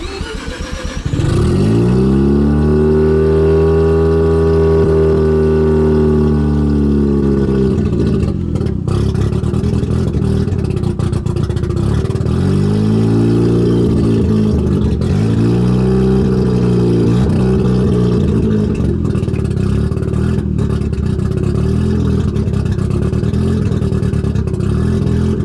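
A Mazda RX-7 FC3S Turbo II rotary engine cranks, fires and settles into a loud, steady idle, with a rough, lumpy running note and a brief dip and recovery in the middle, nearby and with no talking.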